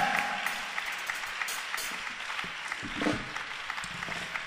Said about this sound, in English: Clap, clap, clap for Jesus.